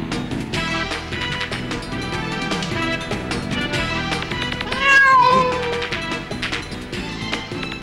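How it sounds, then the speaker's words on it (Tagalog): A cat meows once, briefly, rising above loud, busy background music that plays throughout. "Bakit may pusa?"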